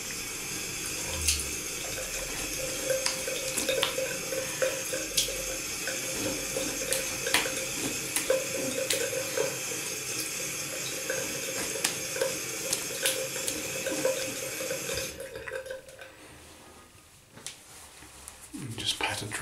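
Tap water runs steadily into a sink while shaving gear is rinsed, a close, even hiss with small splashes and clinks, then it cuts off near the end, leaving quieter handling sounds.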